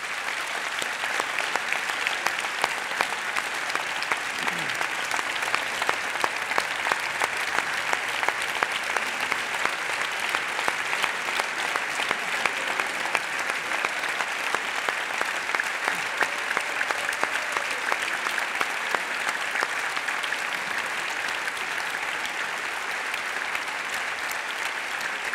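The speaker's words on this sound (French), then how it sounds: "je voudrais que vous le disiez tous et que vous les applaudissiez tous" A conference audience gives sustained applause, dense and even clapping from a large crowd that carries on steadily for the whole stretch.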